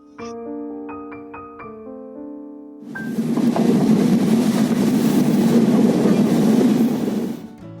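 A short melodic chime plays, then a loud, steady rumble of a moving train passing Chatmohar station fills the rest before easing off at the end.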